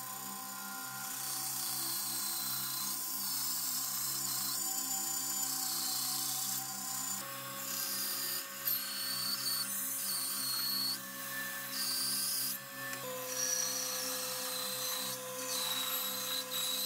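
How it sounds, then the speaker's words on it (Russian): A Record Power Sabre 350 woodworking band saw cuts wood with a continuous whirring mechanical drone that shifts slightly in pitch as the blade works through the timber, with no talk. "ленточный пильный станок по дереву. Record Power Sabre 350."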